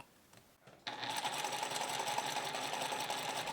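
Sewing machine stitching knit fabric beside sandpaper, starting after a brief quiet moment into a fast, steady mechanical whirr, close and moderately loud, with no talk.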